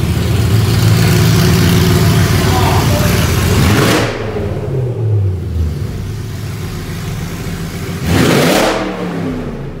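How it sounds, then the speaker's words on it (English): An E92 BMW M3 engine roars loud and raw with no exhaust fitted, revving hard, dropping to a rough idle, then revving up again near the end. "we're gonna start it up with no exhaust, just to see what it sounds like"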